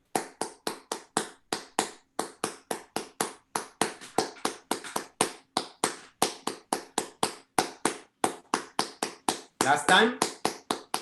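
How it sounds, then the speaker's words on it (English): Hands clap a Chikumbe rhythm from Benin as a steady run of sharp, close claps in a fast regular pulse, with a short spoken question near the end. "a clapping rhythm from the Chikumbe rhythm from Africa, Benin"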